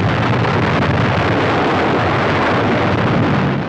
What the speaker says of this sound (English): The explosion was 20 minutes before sunrise.